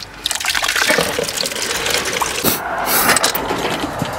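Water pouring into a bucket on a farm, a close, continuous splashing gush that fills and bubbles steadily, with no talking.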